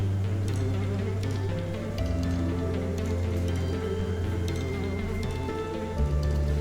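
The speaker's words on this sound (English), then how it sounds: "And it is still raining." Steady rain from a video game pours down continuously, a dense even hiss with scattered drips and patter over a low hum, no voices.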